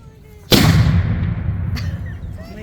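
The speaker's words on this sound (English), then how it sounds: "The gun is now loaded and primed and will be sighted by the officer. Will then give a visual and an audible signal to fire the weapon." A historical cannon fires at a battlefield demonstration: one sudden, loud, close blast with a long rumbling decay outdoors.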